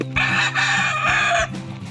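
A rooster crows once in a long sustained call lasting over a second, heard close and loud at a bonsai farm, with soft background noise around it.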